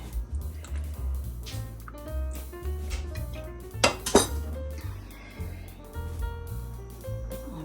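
A utensil scrapes and clinks against a pan as fried potatoes are tossed and mixed, a steady run of close metallic scrapes with one louder clatter midway.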